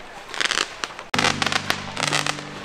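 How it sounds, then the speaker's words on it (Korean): Fireworks bursting over a night-time event at a summer valley campsite, a series of loud crackling pops and booms that cut off briefly and then resume at close range. "와, 저기 불꽃놀이 한다."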